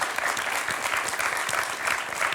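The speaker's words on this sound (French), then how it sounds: "Bravo Eric, on peut l'applaudir encore, je crois, pour ce très beau score." Studio audience on a French quiz show applauding contestant Eric after a high score, a dense steady wash of clapping throughout, fairly close and even in level with no speech over it.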